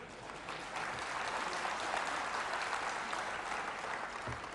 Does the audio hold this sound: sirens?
no